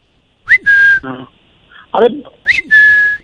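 A voice mimics a balloon whistle stuck in someone's throat, producing shrill, sustained whistle tones in short bursts mixed with strained vocal sounds, close and loud.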